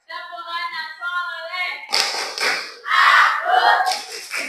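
A group of students performing the 'Tepuk anak soleh' clapping chant as a classroom ice breaker, a sung call at first, then rhythmic group clapping mixed with shouted chanting voices.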